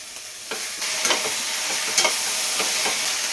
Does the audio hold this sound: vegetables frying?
yes